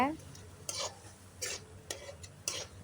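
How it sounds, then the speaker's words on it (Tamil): Ground carrot paste and tomato are sautéed in oil, with a soft sizzle broken by four sharp scraping stirs of a spoon in the pan, close and quiet, with no talk. "இப்போ வந்து அரைச்சி வச்சுருந்த கேரட்டை நாம் சேர்த்துக்கலாம் சேர்த்துட்டு நல்லா வதக்கிக்கோங்க"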